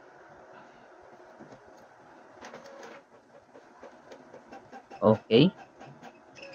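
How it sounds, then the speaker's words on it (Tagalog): An Epson L3210 inkjet printer, just fitted with a replacement print head, prints a test page with a soft steady whir, faint clicks and a few brief louder mechanical bursts near the end, while a person speaks briefly. "So printing na siya."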